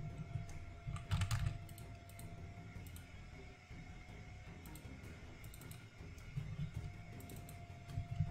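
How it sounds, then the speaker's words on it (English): Quiet typing on a computer keyboard, with irregular small bursts of key clicks over a steady low background hum, faint and without talk. "Come on, let me type."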